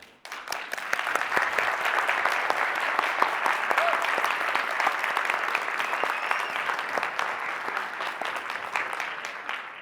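A conference audience at a learning-arena event bursts into sustained applause for an applause-meter test, clapping starting abruptly and holding at a steady, dense level with scattered voices underneath.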